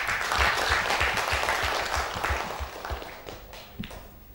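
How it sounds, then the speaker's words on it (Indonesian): An audience at a strategy forum on poverty reduction in Tasikmalaya applauds, a dense wash of clapping with a low rhythmic thump underneath, gradually thinning toward the end. "Boleh tepuk tangan."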